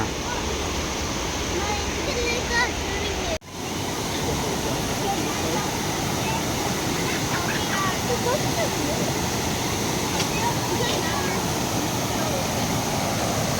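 Minnehaha Falls roars as a continuous, loud, close rush of falling water that fills the whole stretch, steady and unbroken apart from one brief dip.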